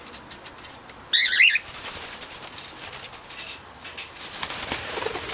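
A corella and cockatiels flap their wings in one sudden loud burst, then light rustling and faint chirps continue close by at a quieter level.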